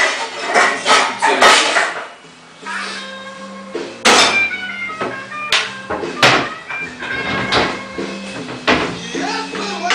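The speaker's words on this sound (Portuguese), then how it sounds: "Vou pegar minha panela aqui, que eu acho a ideal." A cooking pot is picked up and handled in a home kitchen, giving sharp metallic clanks and knocks at irregular intervals, close and fairly loud, with brief ringing tones between them.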